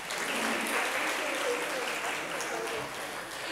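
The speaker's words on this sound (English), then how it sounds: "let's give them a big round of applause, ladies and gentlemen" Audience applause for a discussion panel at a cultural institution's accessibility event, a dense, steady clapping that fills the room and tapers slightly near the end.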